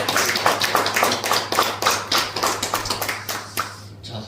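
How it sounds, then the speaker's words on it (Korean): A church congregation claps together at a worship service, a close, steady run of rhythmic claps that fades out near the end, with no voices over it. "다시 한번 우리 감사의 박수를 하나님께 영광을 드립니다."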